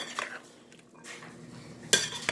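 Dressing is stirred into cowboy caviar in a bowl with a utensil: a few close, separate scrapes and clinks, then a sharp knock against the dish near the end, with quiet gaps between.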